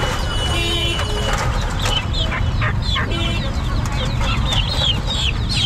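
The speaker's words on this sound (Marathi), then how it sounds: "हे बघा, हे टर्की आहे, नर मादी आहे" Turkeys and other poultry cluck and call in a dense, loud chorus at a large goat and sheep market in Chakan, with people talking faintly amid the constant crowd noise.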